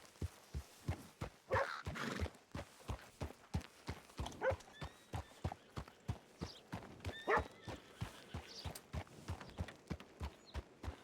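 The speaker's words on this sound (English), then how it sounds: "So many horses." Horses in a video game clip-clop at a steady walking rhythm, hooves clearly audible, with a couple of faint whinnies in the background.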